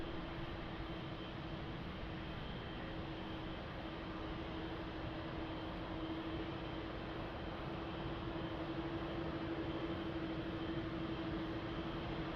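Airbus A330 airliner on final approach to runway 02 at Lisbon Airport, a steady distant jet engine drone with a sustained whine, holding evenly without talk.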